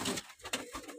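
Pigeons coo softly nearby in a few soft, throaty, rolling calls, with faint background noise and no speech.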